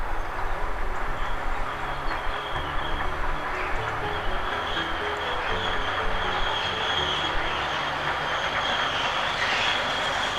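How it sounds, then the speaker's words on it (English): A train rolls steadily past on a bend with continuous rumbling and a sustained high metallic squeal from the wheels, loud and close throughout, on the North York Moors railway near Goathland. "Listen to the squeals on the bend."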